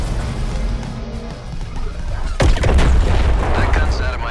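An artillery blast in the video game Suicide Squad Kill the Justice League lands as a single loud, sharp boom midway, followed by a rumbling tail over ongoing game noise.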